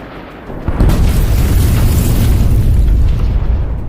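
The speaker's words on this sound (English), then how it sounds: "The second personnel carrier hit a mine and was rendered inoperable." An armored personnel carrier hits a mine, setting off a loud, deep explosion that booms suddenly and then rumbles on with a heavy low-end tail.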